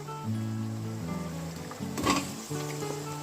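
Loud sizzling as mixed winter vegetables hit hot frying spice paste for a koi fish curry, with stirring and a clank of pan and utensil partway through.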